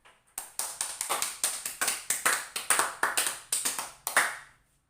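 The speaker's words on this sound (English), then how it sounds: "So clap your hands for group 1." A small classroom group claps for group 1 in short, uneven bursts of close, crisp hand claps, about a dozen separate volleys over a few seconds with brief gaps between them.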